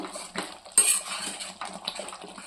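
The lid of a cooking pot is lifted while a vegetable masala curry cooks, giving a sharp metallic clink followed by light scraping and clattering of utensils against the pot.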